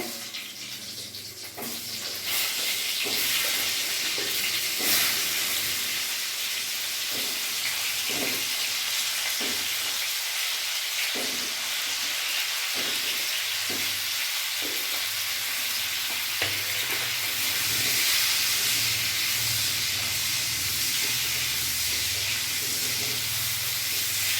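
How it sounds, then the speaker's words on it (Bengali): Pieces of pointed gourd (potol) frying in hot oil left over from frying prawns, a steady close sizzle with occasional soft stirring scrapes and clinks throughout. "ওই তেলের মধ্যে আমি এই পটলগুলোও ভেজে নেব।"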